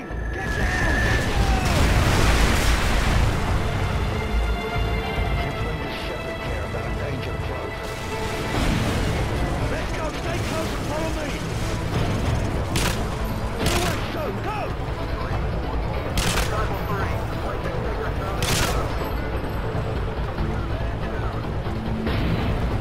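A danger-close artillery strike in the Call of Duty MW3 video game produces heavy, rumbling explosions and sharp cracking blasts that go on throughout, loud and continuous, with shouted military radio voices over the barrage.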